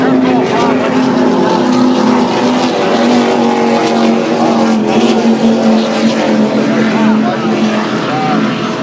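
Loud, droning offshore powerboat racing engines roar continuously at close range during the Key West Powerboat Races, with a commentator talking over the noise.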